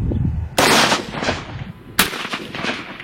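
Two loud, close gunshots ring out about a second and a half apart, each one a sharp blast followed by a rolling echo, as bullets are fired at a target near a pile of concrete.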